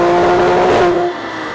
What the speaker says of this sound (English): Because the car has some misfire, Ryan wants to d